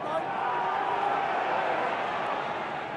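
A rugby crowd at a Leinster versus Ulster match roars in protest, a dense, continuous wash of distant massed voices at steady loudness.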